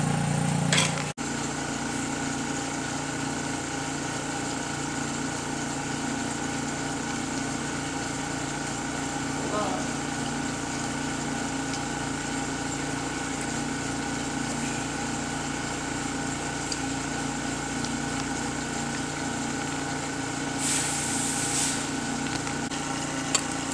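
A Brewer Science 100 spin coater runs steadily, a constant motor whine and hum with a few faint clicks and a brief hiss near the end, no talking.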